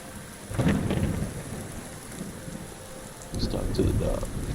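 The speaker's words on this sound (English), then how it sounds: "Thinking how wonderful it would be to get out of this infernal rain." In-game rain falls steadily in Fallout 4 while low thunder rumbles twice, first early and then more strongly near the end, forming a moderate, close storm bed.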